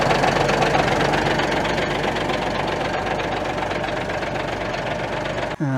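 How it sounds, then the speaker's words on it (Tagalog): A vehicle engine, stated to be new and free of problems, runs steadily at idle with a dense, rapid knocking rattle, loud and close, cutting off abruptly near the end, with no talking. "Pinapakita ni Sir para masabing legit natin na na bago pa yung kanya makina."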